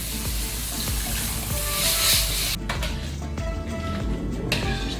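Sambal lado stirred in a pan with added water, giving a steady wet sizzle and bubbling with repeated scraping strokes, close up and fairly loud, abruptly quieting partway through before the sizzle returns.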